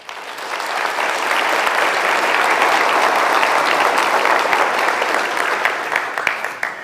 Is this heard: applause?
yes